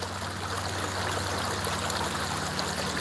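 River water flows in a steady, close babble of rushing and trickling, continuous and even throughout with no voices over it.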